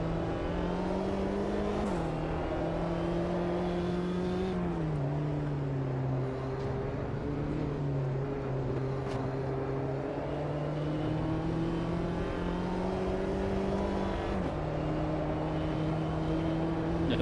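A pack of race cars in the Automobilista 2 simulator, a JCW Mini Challenge field at Cordoba, drone and rev steadily with gear-change dips in pitch, a continuous engine note from a car following closely behind others.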